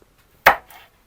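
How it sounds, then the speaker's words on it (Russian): A knife chops pepper on a cutting board in one sharp, loud thud, followed by a softer second cut, close and isolated in a quiet kitchen. "И меленько-меленько нарезаем"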